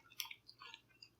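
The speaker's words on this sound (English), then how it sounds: "let's try some of that crunchy pork right here, skin right here." Crunchy crispy pork skin being chewed up close, with a few sharp crackling bites spaced over a second, quiet and without talk.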